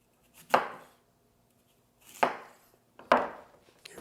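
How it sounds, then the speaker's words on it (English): Knife trimming an apple around its core on a cutting board, giving three crisp, isolated chopping strokes spaced unevenly, close and moderately loud, with quiet gaps between them. "I'm going to take my apple and I'm going to just trim it down like this"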